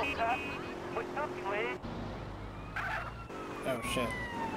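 A police siren wails in the background of Grand Theft Auto: San Andreas game audio while someone talks over it, the siren rising and falling at moderate distance.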